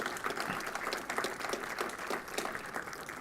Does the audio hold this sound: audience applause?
yes